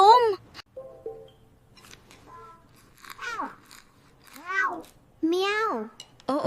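A person imitates a cat's meow several times, with rising and falling voiced calls spread across quiet pauses in a late-night kitchen scene, with faint rustling between them.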